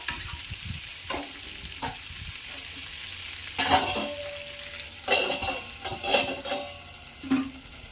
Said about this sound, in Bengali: ঢাকা চাপা দিয়ে দিয়ে পটলগুলোকে আমি ভেজে নেব।